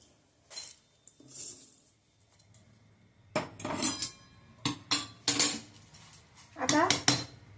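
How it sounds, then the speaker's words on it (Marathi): Roasted lentils are tipped into a pressure cooker pot in a home kitchen, producing sharp metallic clinks and rattling scrapes of a spoon against the metal vessel in irregular bursts, close and clear. "या कुकरच्या भांड्यात मी ही काढून घेते."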